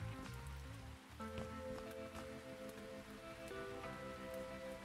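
Steady rain patters on surfaces in Bloomtown: A Different Story, a continuous even hiss under a layer of soft game background music, with no voices.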